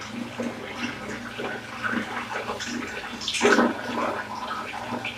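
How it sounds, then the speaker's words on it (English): Hot water runs from a Lifelong 3-litre instant electric water geyser in a steady close splashing gush, with a brief louder surge partway through and no talking. "Hot water is coming,"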